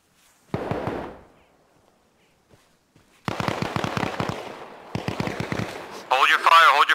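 Arma Reforger gunfire comes in three rapid automatic bursts, one short and two longer, with quiet gaps between them and a sharper crackling burst at the end; players talk over it.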